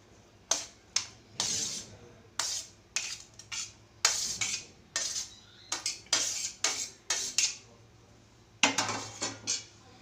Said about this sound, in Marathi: आता आपण हे सगळं टाकून आहे ना चांगलं मिक्स करून घेऊ आपण